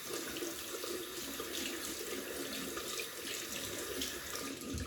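A faucet runs steadily into a bathroom sink while a shaving brush is wet under the stream, a close, constant watery hiss with no voices.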